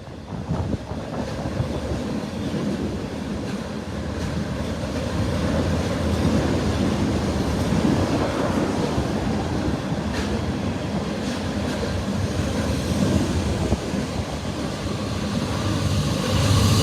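A freight train rolls steadily past close by, its cars rumbling and clacking continuously with a distributed power unit locomotive among them, wind buffeting the microphone throughout.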